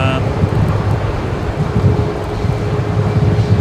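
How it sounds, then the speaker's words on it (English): Wind gusts at Brisbane Airport during Cyclone Alfred roar steadily and loudly against the microphone, with low rumbling buffeting throughout and no clear speech. "The wind's just picked up again."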